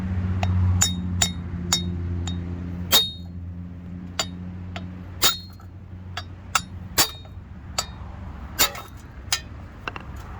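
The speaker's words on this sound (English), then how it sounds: "hammering my chrome socket with the hammer" Sharp metallic hammer strikes on a chrome socket ring out one after another at an uneven pace while replacing a wheel stud on a Honda Civic, bright clanging hits over a low steady hum in the background.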